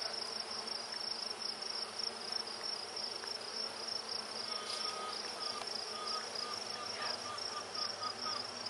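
Honeybees buzz around a hive in a dense, steady drone with a high whine running through it, continuous and fairly faint, with no talking.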